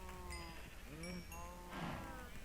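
Cows mooing in the video game Minecraft: several short, low, bending moos follow one another closely in a farm pen, with no voices over them.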